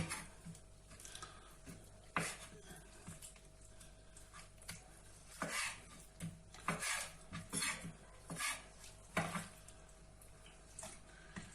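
Quiet, irregular knife taps on a cutting board as chicken hearts are chopped, a handful of sharp chops scattered among faint kitchen clatter and a low background hum.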